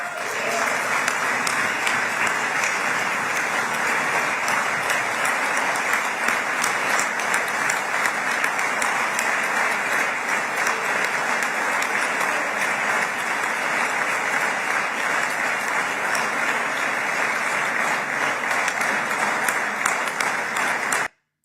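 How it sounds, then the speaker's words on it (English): A large crowd applauds steadily and loudly for about twenty seconds, a dense unbroken wash of clapping that stops abruptly. "So much clapping, so much celebrating."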